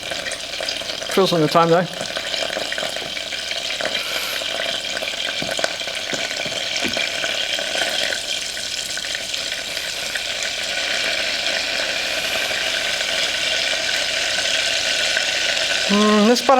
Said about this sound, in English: Stir the tomato sauce, stops it sticking